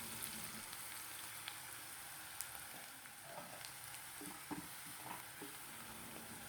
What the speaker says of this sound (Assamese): এতিয়া পিঁয়াজ ভাজা হ'ল